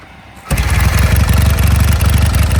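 An Izh or Voskhod motorcycle engine catches after a quiet moment and settles into a loud, close, rapidly pulsing idle that keeps running to the end.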